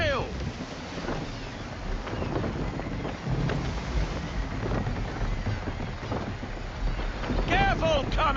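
Sailing ship pushed by a rogue wind in a video game, a steady roar of wind and rushing water with creaking timbers, close and full, while voices shout over it.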